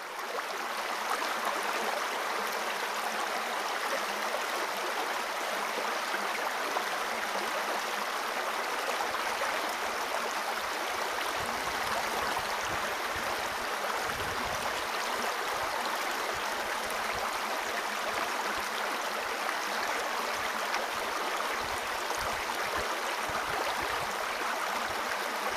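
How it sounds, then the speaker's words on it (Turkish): Mountain water rushes at Pangar Waterfall near Soğukpınar, fed by snowy peaks and highland pastures: a constant, loud, broadband roar of falling and flowing water, steady throughout with no voices. "Karlı dağlar ve yaylalardan koşarak akan sular, belde sınırının başladığı yer olan Pangar Şelalesi'nde"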